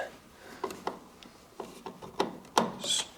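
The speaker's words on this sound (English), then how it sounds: "grab the screwdriver" Screwdriver tightening a screw on a 7-inch Lucas headlight of a classic car: a few close, light scraping and ratcheting clicks in an irregular rhythm, with no talking.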